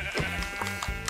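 A sheep bleating in the video game Minecraft, two or three short nasal bleats in quick succession, close and clear, with no voices over them.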